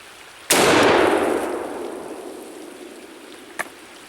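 A single loud, sharp rifle shot from a Rossi .243 Winchester fired at ice outdoors, with a long decaying echo and a faint short crack about three seconds later.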